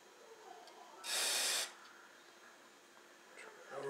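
One short, loud burst of aerosol cleaner sprayed into a brushed electric motor, hissing for about half a second, then quiet room tone with faint rustling.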